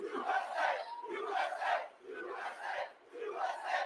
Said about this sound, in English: This is a nice crowd.